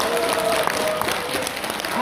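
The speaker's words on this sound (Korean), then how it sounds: "큰 박수 부탁드립니다." Audience applause at a Korean panel discussion on a presidential impeachment trial, a dense, steady wash of clapping throughout with a faint voice and tonal hum underneath.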